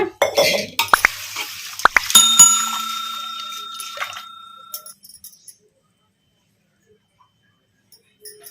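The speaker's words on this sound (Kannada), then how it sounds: "ಇವನ್ನ ಒಂದು ಸಲ ನೀರು ಹಾಕಿ ತೊಳೆದು ಬಿಡೋಣ" Black-eyed pea dal being washed in water in a vessel, with clinks, stirring and sloshing in the first few seconds, then fading to near silence.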